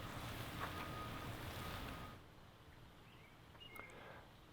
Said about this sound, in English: See the water draining down the driveway here?